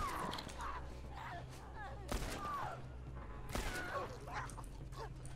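Gunfire in The Last of Us, two sharp, loud shots about a second and a half apart standing out over quiet game ambience, with someone speaking faintly at times.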